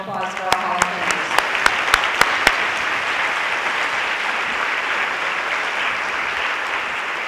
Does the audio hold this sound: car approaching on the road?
no